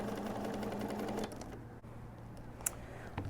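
A sewing machine stitches a quarter-inch patchwork seam for a Disappearing Shoofly quilt block in Tula Pink True Colors fabric, guided by a grid glider; a steady close mechanical whir that eases off partway through, ending with a couple of small clicks.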